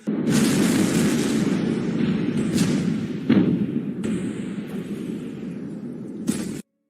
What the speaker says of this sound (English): A second massive explosion that some described as like an earthquake.